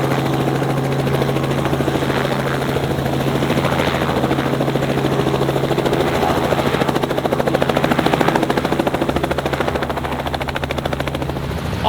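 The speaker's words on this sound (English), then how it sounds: "Lots of helicopter tours happening here too." A tour helicopter over downtown Toronto drones loudly and continuously, its rotor thumping in a rapid steady pulse, swelling slightly as it passes close overhead.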